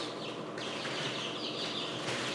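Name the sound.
chicks chirping while hatching in an incubator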